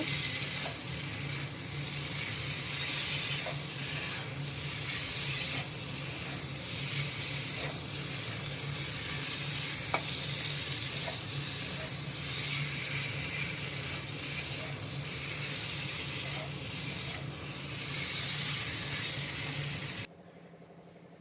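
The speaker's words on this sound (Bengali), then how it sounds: "আমি এর মধ্যে কচুটা দিয়ে দিয়েছি, দিয়ে একটু ভালো করে নেড়ে চেড়ে নেব" Taro pieces and spices stirred in a hot frying pan for a katla fish curry, with a steady close sizzle and scraping stirs running throughout, no voices, ending abruptly near the end.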